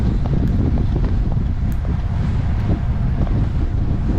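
Strong wind buffeting the microphone while cycling with a group in windy conditions, a loud continuous low roar with rapid gusty fluctuations and no voices.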